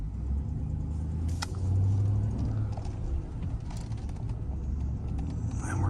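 A 2012 Chevrolet Z71 pickup with a heavier duty air filter drives on a city road, giving a steady low engine and road rumble with occasional creaks and rattles from the cab throughout.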